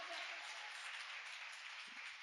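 A church congregation claps together at a Sunday service, a dense, even wash of applause that holds steady throughout at moderate loudness.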